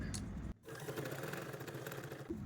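A sewing machine stitches a garment's main fabric along marked lines, running in a steady, close whirring drone after a brief opening burst and a short pause.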